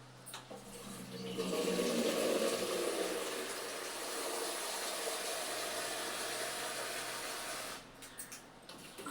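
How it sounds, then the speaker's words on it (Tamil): Water gushes steadily from a tap into a container for several seconds, a close, continuous rushing that stops near the end. "நான் மூணு தண்ணி பிடிச்சி வச்சுக்கிறேன்"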